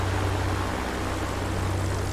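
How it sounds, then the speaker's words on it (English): A Sopwith biplane's engine runs in the DCS World flight game as a steady low droning hum with a faint airy wash over it, fairly quiet and unchanging across the short stretch. "oh look, the engine spins again."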